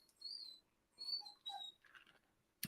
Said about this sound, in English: I got one of my dogs freaking out over here in the corner.